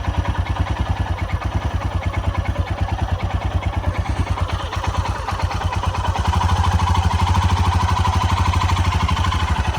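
A Royal Enfield Himalayan motorcycle engine idles close by with a rapid, even thumping pulse. It grows slightly louder and fuller toward the end.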